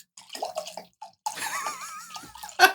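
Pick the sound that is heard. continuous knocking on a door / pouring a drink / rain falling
pouring a drink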